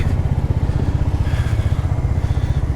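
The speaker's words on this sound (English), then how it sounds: "this is the Royal Enfield 350 Classic" Royal Enfield 350 Classic motorcycle engine idling close by, a steady, even run of low, rhythmic thumping pulses with no talk over it.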